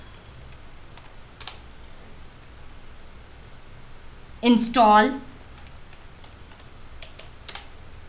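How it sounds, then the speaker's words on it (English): A few faint, scattered keyboard clicks in a quiet room, with one short spoken word in the middle. "I will do that now by typing"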